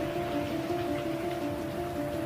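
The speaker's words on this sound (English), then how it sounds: "As Chen was walking in the rain" Steady rain falls at night on a Wuhan street during the coronavirus lockdown, a constant even hiss with a faint low hum beneath and no voices.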